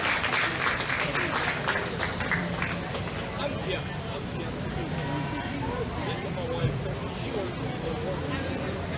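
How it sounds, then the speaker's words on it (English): Applause for the showmanship judge at the Guernsey County Fair dairy and beef shows, a steady crowd clapping mixed with chatter from the surrounding spectators. "we want to give him a round of applause again"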